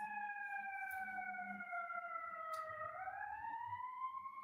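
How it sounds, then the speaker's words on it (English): An ambulance siren wails steadily with a sustained rising and falling tone, loud and continuous, its pitch sliding down and then back up near the end, with faint low rumbling traffic beneath. "Ambulance, not police car."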